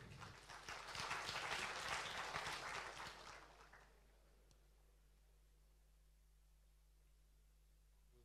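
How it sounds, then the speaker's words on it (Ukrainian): Applause at a political party congress in a hall, a dense burst of many hands clapping for about three seconds that then fades into quiet room noise with a low hum. "Можна аплодисменти?"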